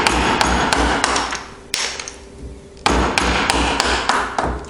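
A chisel is tapped down with a mallet to cut a wooden mortise, giving a fast run of sharp, loud, close knocks, a short pause, then another quick series of taps.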